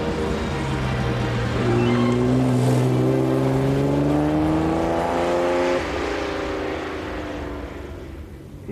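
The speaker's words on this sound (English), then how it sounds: "All Astons have got a lovely exhaust note." An Aston Martin sports car's exhaust note rises and holds as the engine revs through the gears, a loud, steady, close-up drone with changing pitch and no talking.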